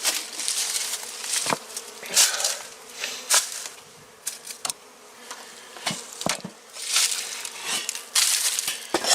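Honey bees buzz around an open hive box during a spring check while a bottom board is scraped clean, a fluctuating drone broken by sharp scraping and knocking sounds close up.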